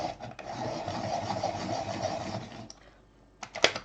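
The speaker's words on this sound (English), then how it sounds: "This is a kind of helical blade sharpener, and this is the best one." A helical blade pencil sharpener grinds a colored pencil with a steady, close rasping whir for about two and a half seconds, then stops, followed by a few faint clicks and a short scrape.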